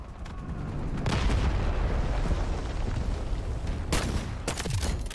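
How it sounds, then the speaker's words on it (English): Incoming artillery fire in the video game Delta Force: dense, continuous rumbling barrage of explosions with sharp bursts near the end, loud and sustained throughout. "Incoming artillery"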